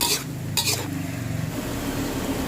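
Small fish deep-frying in oil for a crispy sugar-coated snack, a steady soft sizzle with a couple of brief sharper bursts near the start, heard close with no talking.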